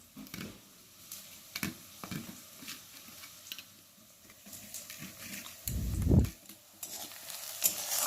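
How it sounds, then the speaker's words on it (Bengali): Sour yogurt with cumin, coriander and chili powder being whisked in a bowl makes irregular scraping strokes, with a faint sizzle of frying underneath and one louder burst near the end. "এখানে আমি নিয়েছি টক দই। এর মধ্যে জিরে, ধনে, লঙ্কার গুঁড়ো একসঙ্গে দিয়ে ভালো করে ফেটিয়ে নেব।"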